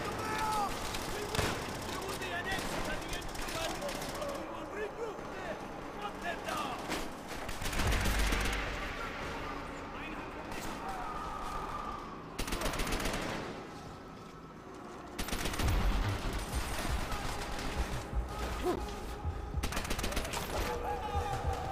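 MG42 machine gun fire in Call of Duty: World at War, with bursts of rapid gunfire and heavier blasts clustered at several points over a constant battle din, as players talk excitedly throughout.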